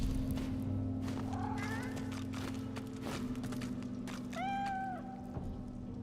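A cat in the game Divinity: Original Sin 2 gives two distinct rising meows a few seconds apart, clear and close over a low droning game background with scattered soft clicks.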